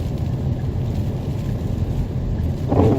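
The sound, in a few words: wind during a storm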